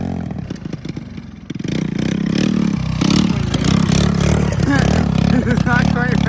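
A 125cc engine swapped into a three-wheeler revs and races loudly, with uneven rising and falling pulls while its carburettor still needs tuning; voices are heard alongside it.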